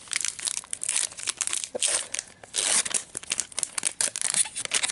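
A Pokémon booster pack wrapper is torn open with loud, close crinkling and crumpling of foil plastic in repeated bursts, sharp crackles coming in quick irregular bunches.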